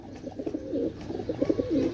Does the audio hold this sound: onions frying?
no